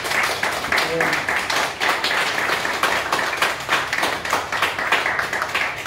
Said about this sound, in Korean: 이런 과학자님들한테 박수 한번 좀 보내주시기 바랍니다.